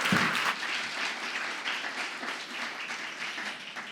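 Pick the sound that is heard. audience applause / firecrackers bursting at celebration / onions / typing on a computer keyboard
audience applause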